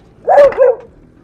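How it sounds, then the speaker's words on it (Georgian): A dog gives a single close, loud bark in two quick bursts, heard alone. "ეს ჩემი ძაღლი არის, არა უშავს."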